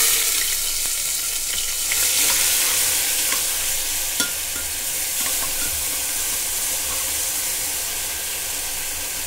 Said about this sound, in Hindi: अब हम इसमें डाल देंगे प्याज, जो हमने पेस्ट बनाया था, प्याज लहसुन अदरक का पेस्ट हम इसमें डाल देंगे।